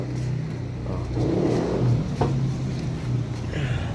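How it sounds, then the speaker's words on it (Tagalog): Engine of a 2019 Toyota Fortuner revved with the throttle during EGR valve cleaning, a close rumbling idle swelling into a rev and settling back, steady throughout. "Papabitangan natin yung throttle mga boss."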